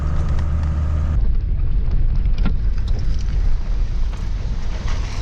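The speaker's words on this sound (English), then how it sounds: "is it ever raining?" Heavy rain pours down steadily on a vehicle in a rainy coastal area, a dense continuous wash of noise at constant loudness, with a low engine rumble underneath that shifts after the first second.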